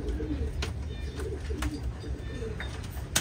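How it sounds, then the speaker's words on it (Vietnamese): Large American pigeons cooing in a farm loft, with soft repeated low coos over a busy background of shuffling, faint chirps and a few sharp knocks, fairly close. "bồ câu rất đẹp và to, nó phải chuẩn như thế này nha mọi người."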